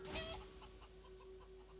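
A chicken clucks in Divinity Original Sin 2, a short run of clucks up close with a steady tonal hum from the game running beneath it.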